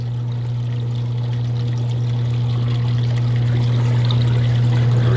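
Water pours steadily into a large tank of roughly 100 gallons on a custom build, a loud, continuous rushing stream that holds an even level throughout with no voices.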